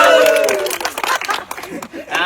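Quick bursts of hand clapping mixed with crowd noise and a lively voice during a birthday celebration, loud at first and thinning out over two seconds.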